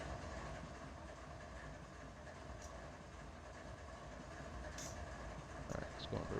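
A locomotive rumbles steadily in the Run8 train simulator game, a constant low engine and rail drone with a few faint clicks and squeals on top.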